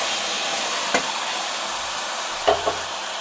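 Ground masala frying in a pan for jackfruit seed sambar, a steady soft hiss running throughout, broken by a couple of brief scraping stirs.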